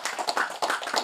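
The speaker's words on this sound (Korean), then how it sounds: "이 사이좋은 두 부부님을 위해서 박수 한번 크게 보내주세요" Audience applause at a lecture hall event honoring a married couple, a brief, dense patter of many hands clapping at moderate volume with no talk over it.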